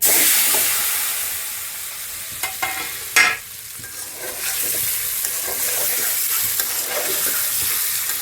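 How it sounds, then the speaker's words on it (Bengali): Eggs fry in hot oil with turmeric, giving a steady, close sizzle and hiss. A few sharp clinks and scrapes from stirring cut through the sizzle. "ডিমগুলো তেলে ভেজে নেওয়ার জন্য দিচ্ছিলেন"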